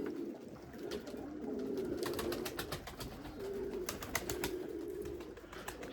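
Erzurum white breeding pigeons coo in a coop, with low, steady rolling coos running throughout and scattered sharp scuffs and clicks from the birds moving nearby.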